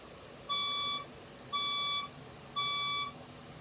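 Three evenly spaced electronic beeps, each about half a second long, sound from a building fire alarm going off in the dark. The beeps are loud and bright and stand alone with no talking.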